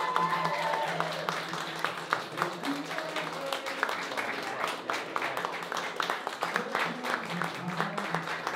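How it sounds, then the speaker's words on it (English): A small crowd of family and friends claps for newlyweds after a city hall wedding ceremony: steady, moderately close applause with scattered cheers and voices mixed in throughout. "Give them a round of applause."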